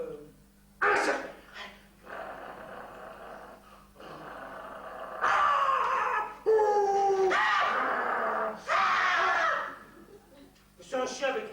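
A voice howls and growls in imitation of a three-headed dog during a stage performance, with several long wavering cries separated by short gaps, close and loud.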